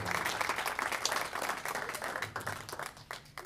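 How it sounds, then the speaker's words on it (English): A crowd gives a magician's show sustained, steady applause, moderately distant and fairly quiet, with dense overlapping claps throughout. "big round of applause for Jack Valentine."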